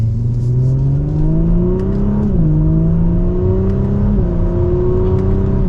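A 2023 Audi S4 Premium Plus sedan accelerates hard from second gear, its engine note climbing steadily in pitch with a brief dip at an upshift, loud and close from inside the car with no talk.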